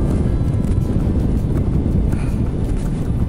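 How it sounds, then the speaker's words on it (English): Strong wind buffets an exposed, craggy hilltop in mid Wales, a steady loud roar with gusty rumbling across the microphone throughout and no voices. "every time I come up a hill, it's bloody windy"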